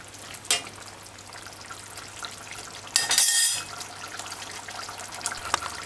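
A pot of Run Dung simmering uncovered on the stove, a steady close bubbling hiss running throughout, broken by one brief, brighter splashing burst midway.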